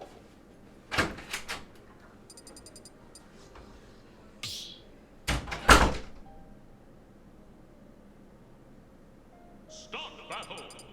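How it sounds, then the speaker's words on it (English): A door thuds open and later closes in a quiet room, with a few sharp knocks and thumps spread across the span, plus faint electronic beeps and a brief distant voice. "Shouts to the people who want to hear the door open and close in chat."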